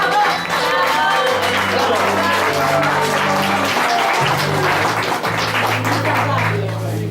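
Audience applause at a poetry evening in a bar, a dense steady wash of clapping with sustained tonal music underneath throughout.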